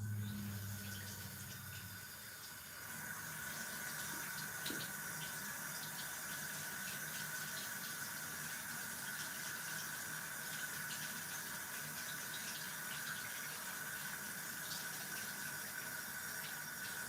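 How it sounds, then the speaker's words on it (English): Water runs steadily from a kitchen tap during handwashing, a soft, even hiss that stays quiet and unbroken, with a brief duller stretch near the start. "So I'm going to wash my hands and be right back."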